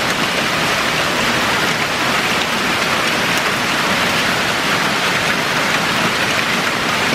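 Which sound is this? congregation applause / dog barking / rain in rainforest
rain in rainforest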